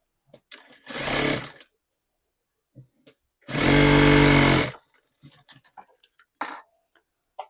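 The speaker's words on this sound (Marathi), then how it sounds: "अर्धा इंच फोल्ड करून एक शिलाई मारून घ्यायची" A sewing machine stitches down a half-inch fold of fabric in two close, loud bursts, a short run and then a longer one, with light handling clicks in between and no talking.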